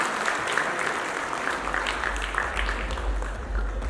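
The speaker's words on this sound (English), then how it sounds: "big round of applause for Rani Mukherjee" Steady applause from an audience at a FICCI Frames event honouring Rani Mukherjee, a broad wash of clapping that continues throughout with a low rumble building underneath.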